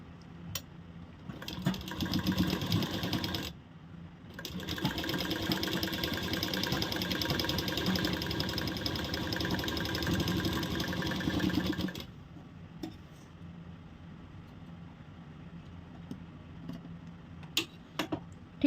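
Sewing machine stitching a salwar runs in a long steady whirring burst, pauses briefly, then resumes for several more seconds before stopping, leaving faint handling clicks and taps.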